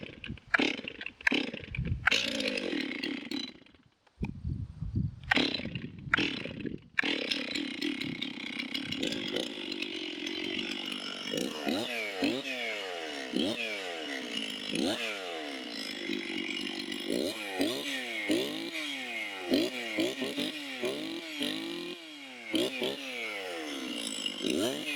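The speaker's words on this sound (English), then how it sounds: "it's a little bit harder to start, but not that bad" A Stihl 036 chainsaw with a decompressor and a large engine is pulled over with a few short cranks, catches, and then runs close by, idling and revving repeatedly in rising and falling bursts.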